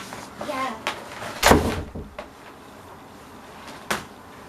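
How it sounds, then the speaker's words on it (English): A door is pushed shut with one sharp thump near the middle, followed later by a lighter knock, while people talk indoors around it. "Close the door."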